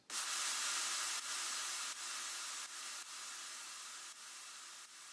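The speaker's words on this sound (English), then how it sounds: "Then lastly, I just have this white noise." A white noise layer in an electronic music track plays alone as a steady broadband hiss, pulsing in several sustained blocks that step slightly quieter each time.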